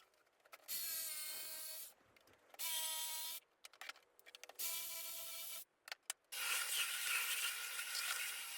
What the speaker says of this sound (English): So I make 4 little holes to put my jigsaw in, make the cutout and push the vent into the cutout.